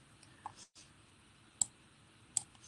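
Computer mouse clicked while building a 3D model in design software: a few sharp, close clicks spaced apart over a faint room hiss, one brief pause in the middle.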